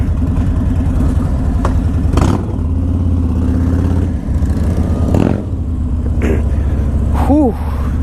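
A Harley-Davidson Road King with the 107 engine, matte black, rumbles steadily at close range while riding, a loud continuous low engine drone with brief shifts in pitch and no talk.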